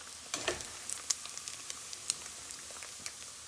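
Vegetables sizzling in hot bacon fat in a pan, a continuous crackling hiss scattered with sharp little pops and spits.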